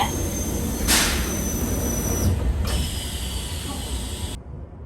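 A JR train pulls away from Soga station, a steady low rumble and hiss of rolling stock with a couple of bursts of brighter mechanical noise, fairly close, before the sound cuts off abruptly.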